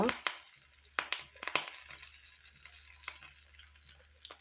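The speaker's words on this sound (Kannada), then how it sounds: "ಈಗ ಇದಕ್ಕೆ ಒಗ್ಗರಣೆ ಸೊಪ್ಪು ಹಾಕ್ಕೊಳ್ತಾ ಇದ್ದೇನೆ ಸ್ವಲ್ಪ" Stuffed bitter gourd cooks quietly in a pan on low heat as seasoning leaves go in. A soft sizzle runs under scattered sharp clicks and taps of a utensil.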